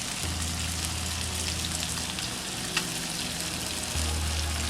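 Butter sizzles over sautéed fish in a hot pan, a continuous close frying hiss with a faint crackle, one small pop partway through, and a low hum underneath.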